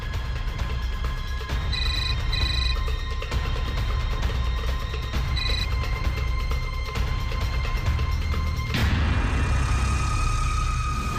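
A telephone rings in a Marathi TV serial scene with a few short, bright ring bursts early on and another later. They sit over a loud, steady background rumble that shifts near the end.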